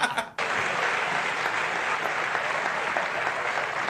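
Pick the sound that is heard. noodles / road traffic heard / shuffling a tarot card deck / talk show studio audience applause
talk show studio audience applause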